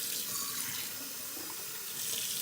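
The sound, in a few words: kitchen faucet running hot water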